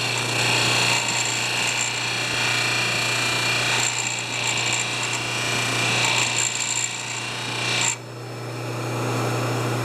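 A wire wheel on an electric motor scrubs a Swedish-made Hudson's Bay axe head. The motor whirs with a steady hum while the brushing rasp rises and falls across the pass, dipping briefly near the end.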